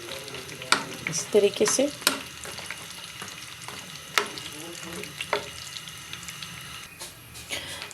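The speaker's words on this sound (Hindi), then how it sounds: "इसको हम थोड़ा सा फ्राई कर लेते हैं, ज़ीरे को भी और लाल मिर्चों को भी" Cumin seeds and dried red chilies fry in hot oil with a steady crackling sizzle, broken by sharp spoon clinks and stirring scrapes, while someone briefly speaks over it.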